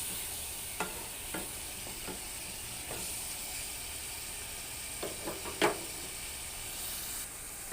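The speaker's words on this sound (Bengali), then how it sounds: "মশলাটা এখন কষানো হচ্ছে।" Spice masala sautéing in oil with onion and garlic for a dried fish curry, a continuous hiss of frying broken by occasional scraping taps of the spatula against the pan.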